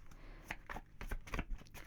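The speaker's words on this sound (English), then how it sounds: "we're going to do 3 shuffles" A tarot card deck is shuffled by hand, a short series of soft riffling and tapping card sounds, close and quiet, with no talking.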